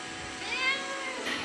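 A cat gives a single drawn-out meow, fairly close and moderately loud, while begging for chicken indoors.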